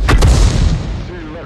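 A heavy boom from an SU-8 self-propelled gun fires in a video game, two sharp close blasts up front followed by a rolling low rumble that fades away.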